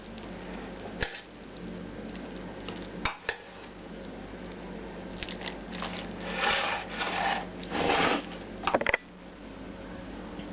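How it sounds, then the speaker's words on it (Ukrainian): A spoon stirs a lung salad with homemade mayonnaise in a bowl, producing close, soft wet scraping and clinking against the dish, a few taps early and a denser stretch of mixing toward the end. "і даю майонез. Майонез у мене домашній."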